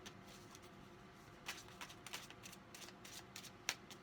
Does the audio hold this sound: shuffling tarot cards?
yes